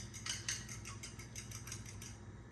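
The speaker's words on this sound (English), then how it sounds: "just kind of break them up, whisk them together a little bit" Eggs being whisked together in a bowl for pumpkin bread, a quick rhythmic series of light metallic taps and scrapes, close and fairly soft, with no talk.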